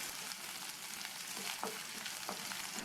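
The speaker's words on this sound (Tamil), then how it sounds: "வெங்காயத்தை லைட்டாக மட்டும் இந்த மாதிரி வதக்கி விட்டுட்டு" Thinly sliced large onion sautés in a pan with a soft, steady crackling sizzle, broken now and then by faint scrapes of stirring, heard up close and alone.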